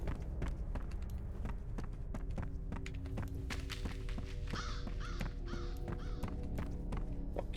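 Crows cawing repeatedly amid game sound effects, with sharp clicks and footstep-like thuds running steadily underneath.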